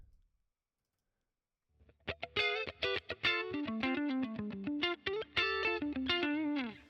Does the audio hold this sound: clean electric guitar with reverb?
yes